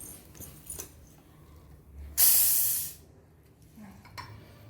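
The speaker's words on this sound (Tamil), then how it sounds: "சோடா ஓப்பன் பண்ணி ஊற்றுங்க" Soda fizzes in one short, bright hissing burst as the bottle is opened and poured, fairly close against quiet kitchen background.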